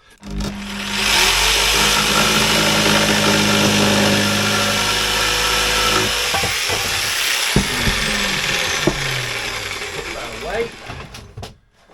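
A power saw cuts wood for the bowsprit of a Drascombe Lugger, its motor whining steadily for about six seconds before winding down, followed by clatter and some nearby talk.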